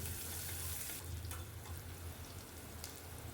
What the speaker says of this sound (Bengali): পেঁয়াজ আর কাঁচা লঙ্কাটা ফোড়নের সাথে ভেজে নেব